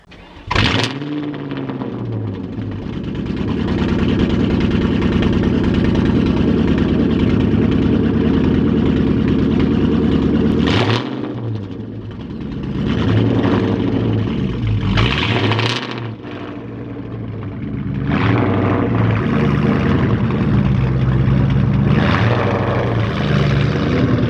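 A Ford Mustang GT engine runs rough and uneven while the car backs up, a loud steady drone broken by several revs and dips, with damp Cobra vents letting moisture in.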